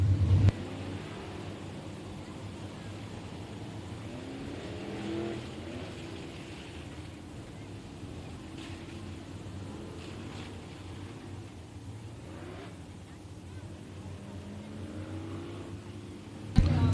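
Late model race cars at Kennedale Speedway Park send a steady, distant engine rumble across the track, a low continuous drone with no clear individual passes standing out.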